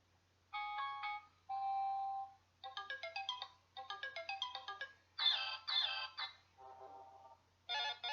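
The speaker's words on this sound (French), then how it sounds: "ça c'est pour l'alarme, le téléphone." An electronic phone alarm ringtone plays alone in a quiet room as a series of bright melodic beeps and chirping patterns in short bursts, changing tune between phrases, clear and close.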